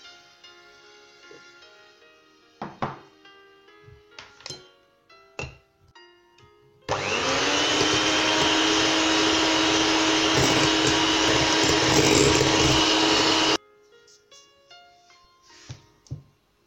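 An electric mixer whirs loudly and steadily for about seven seconds while beating crêpe batter with milk, set between quieter clinks and knocks of bowl and utensils.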